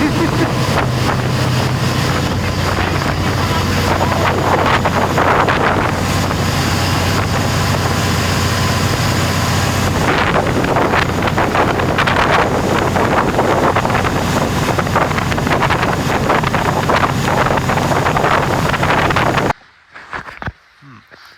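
A steady, loud mechanical roar from a boat's engine room vent blends with gusting wind buffeting the microphone on a cruise in Doubtful Sound, New Zealand, continuous for most of the clip before cutting off.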